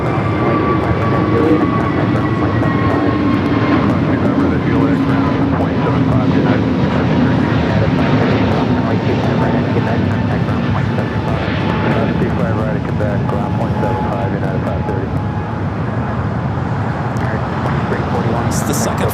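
A jet airliner at LAX airport, its engine roar steady and loud throughout with broadband rumble and faint whining tones.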